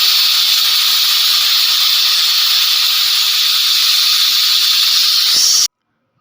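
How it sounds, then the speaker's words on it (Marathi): A pressure cooker boiling potatoes whistles in one loud, steady, continuous hiss for several seconds, then cuts off abruptly. "कुकरमध्ये ह्याच्या शिट्ट्या काढून घ्यायच्यात. तर इथे मी 3 शिट्ट्या करून घेते."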